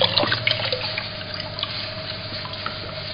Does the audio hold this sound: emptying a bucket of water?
yes